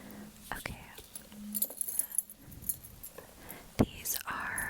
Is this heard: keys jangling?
yes